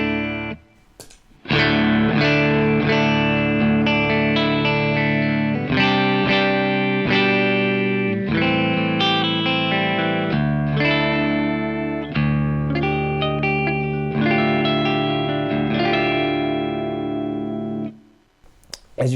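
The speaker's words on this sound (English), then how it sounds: "This is what the compressor sounds like on its own." Electric guitar played direct through a Darkglass Super Symmetry compressor pedal, strummed in sustained, even-volume chords with a slightly colored, squashed tone and a little room ambience, continuous and close, ending abruptly.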